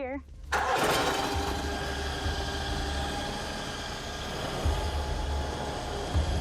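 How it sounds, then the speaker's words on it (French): A hydraulic sediment sampling probe starts up with a short whirring spin-up, then settles into a loud, steady engine-like drone with a low rumble that runs throughout, close by. "C'est une sonde hydraulique. On va la démarrer."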